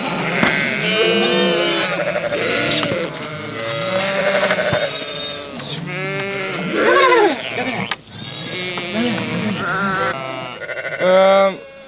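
Many sheep bleat continuously and loudly in a pen during night lambing on a transhumance route in Oltenia, Romania, with overlapping calls close and far, a few louder cries standing out.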